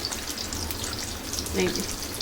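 Marinated beef frying over medium heat in a pan for beef chilli onion, a steady close sizzle and crackle running through the whole stretch with a brief louder spatter midway.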